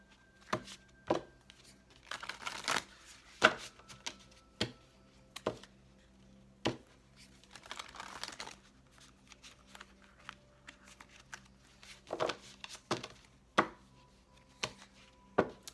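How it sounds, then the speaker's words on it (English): Tarot cards are shuffled by hand in sharp, irregular riffles and taps, some clustered and some spaced out, close and fairly quiet with no talking. "Last shuffle, guys."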